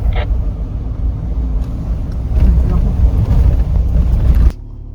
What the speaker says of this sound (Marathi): More trucks to come.